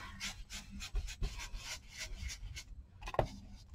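Pink distress ink is dabbed and rubbed through a stencil with an applicator, making soft repeated scuffing strokes in an uneven rhythm that stay quiet and close, with one sharper tap near the end.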